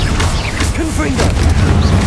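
A Confringo blasting curse in Hogwarts Legacy hits with a low, rumbling boom that fills the short moment, while a voice calls out over the blast.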